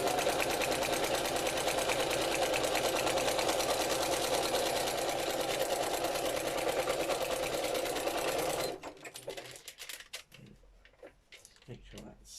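A sewing machine stitches continuously in a fast, steady mechanical rattle for about nine seconds, then stops, leaving faint handling noises.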